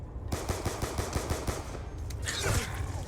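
In Call of Duty Nuketown Zombies, a gun empties a full magazine in a rapid, evenly spaced burst of about a dozen shots, followed by a short pause and reload clatter over ambient game noise.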